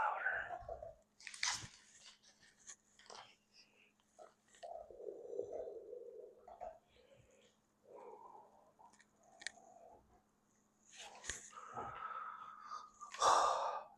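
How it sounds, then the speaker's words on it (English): Close, wet chewing and crunching from a dog gnawing on a bone, coming in irregular bursts separated by short quiet pauses. "If you hear chewing, it's my dog gnawing on his bone."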